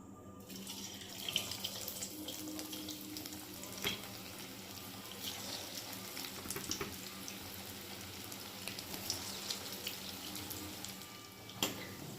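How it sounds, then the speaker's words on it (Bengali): Semolina balls frying in hot oil, a continuous fizzing sizzle with occasional sharp pops and crackles, fairly quiet and steady, no voices. "বন্ধুরা তেল গরম হয়ে এসেছে, এবার ওই গোলাগুলো সুজির গোলাগুলো আমি ভেজে নেব।"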